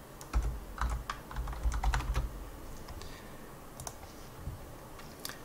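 Computer keyboard typing, a quick burst of close, crisp key clicks at the start, then a few scattered taps fading into quiet room hiss.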